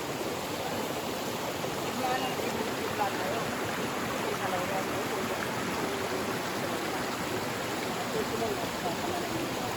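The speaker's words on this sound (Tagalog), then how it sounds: "pang-apat na river crossing natin ngayon" Steady broadband rush of a river flowing over rocks during a crossing on a rugged mountain trek, loud and continuous throughout with no clear voices.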